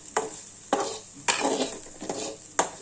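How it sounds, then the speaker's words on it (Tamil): Onions frying in a pan for vegetable soup are stirred in about five regular scraping strokes, each stroke lifting over a soft, continuous sizzle, close and fairly quiet with no voices. "வெங்காயம் சேர்த்ததுக்கு அப்புறம் நல்லா கிண்டிக்கணும்"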